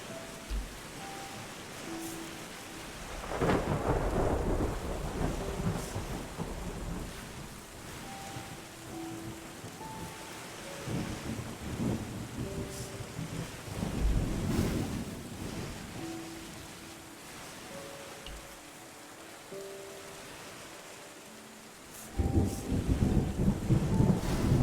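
A thunderstorm in the ecosystem-restoration game Terra Nil, with steady rain and several deep rumbling thunder swells, the last and loudest near the end, and soft tonal chimes scattered throughout.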